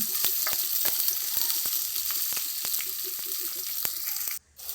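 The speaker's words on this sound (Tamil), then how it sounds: "இப்போ தட்டி வச்சுருக்க சின்ன வெங்காயத்தையும் சேர்த்துக்கலாம் சேர்த்து நல்லா வதக்கிக்கலாம்" Crushed shallots sautéing in a pan for a village-style dried-fish kuzhambu: a continuous frying hiss with a string of sharp spatula taps against the pan, and a brief break near the end.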